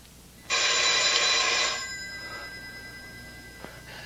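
An old telephone bell rings once, loud and close, for about a second before fading out, leaving a quiet room.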